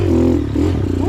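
Trail motorcycle engines rev hard on a rocky hard section of Blue Rock, a steady loud drone with rising and falling pitch and some clatter and scraping throughout.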